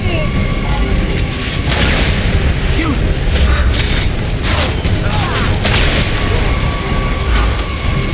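Mortar shells burst during a Gears of War: Judgment battle. Heavy booms and explosions pound continuously and loudly, mixed with rumbling gunfire and occasional voices.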